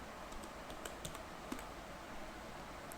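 A computer keyboard being typed on to enter a file name, sparse quiet key clicks in small bursts against a soft background hiss, with no talking.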